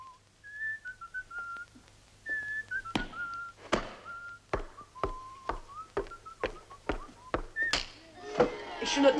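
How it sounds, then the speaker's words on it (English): A pupil whistles a short wavering tune in a classroom, the notes broken up by a series of sharp knocks and thuds with some talk mixed in. "stop that whistling"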